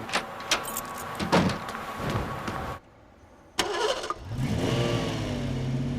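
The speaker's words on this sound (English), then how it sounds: "Whoa, he just left. Sounded like he had a race car." A race car engine cranks and catches, revving loudly with sharp bursts before a brief near-silent gap, then roars back and accelerates away with a rising, sweeping pitch as it drives off.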